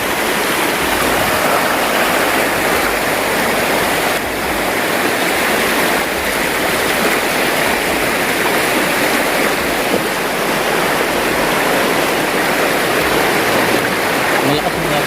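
A strong river current rushes at a slippery bathing spot below a waterfall, making a loud, steady, close roar of churning water that never lets up.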